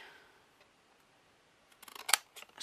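Scissors snip a strip of flexible patterned material during a birdhouse build. After a quiet start, a short run of sharp, close cuts comes toward the end.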